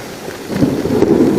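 Heavy rain pouring down outdoors in a downpour, a dense steady hiss with a low rumbling swell that grows louder partway through, with no voices.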